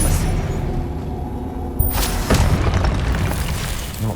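A Confringo blasting spell in Hogwarts Legacy erupts with a loud boom, followed by crackling, rumbling debris and mechanical game effects.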